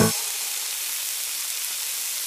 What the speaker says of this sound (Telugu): చూసారు కదా, అక్కడ పాలు బాగా మరిగిపోయినాయి.